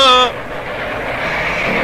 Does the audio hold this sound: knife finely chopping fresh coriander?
no